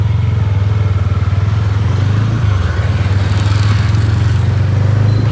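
A motorbike being ridden, its engine a loud, close, steady thrum with an even pulsing beat that holds throughout, with no voices.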